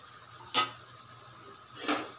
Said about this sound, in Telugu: ఇవన్నీ వేసి బాగా కలపాలి